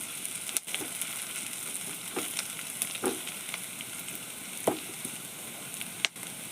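Onions sautéing in a pan for tomato chutney give a soft, even sizzle close by, punctuated by a handful of light stirring knocks, with no voices.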